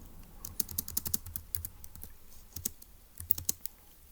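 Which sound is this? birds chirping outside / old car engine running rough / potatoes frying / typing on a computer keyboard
typing on a computer keyboard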